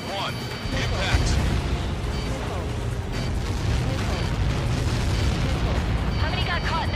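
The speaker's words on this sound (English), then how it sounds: "How many got caught in that explosion?" A huge blast from Helios projectiles in the aerial combat game Ace Combat 7: Skies Unknown, a continuous loud rumbling roar lasting throughout, with radio voices talking over it.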